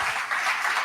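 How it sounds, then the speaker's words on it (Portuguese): Brief burst of congregation applause in a church service, a continuous wash of clapping lasting under a second at moderate loudness. "Dê um aplauso a Jesus"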